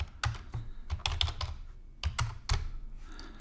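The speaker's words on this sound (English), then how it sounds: "let's type it in just to make it look better" Computer keyboard typing in quiet, close clicks and clacks, a quick irregular run of keystrokes with a brief pause before another burst.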